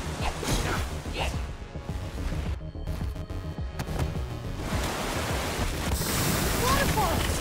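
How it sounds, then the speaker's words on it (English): Rushing waterfall in Minecraft Story Mode Season 2, in a lava arena: a loud continuous roar and splash of falling water with crashing bursts, overlaid with game sound effects and music. "Waterfall!"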